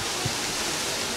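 Steady broadband rush of a waterfall in the brown bear enclosure at Kolmarden zoo, an even, continuous wash of falling water with no voices.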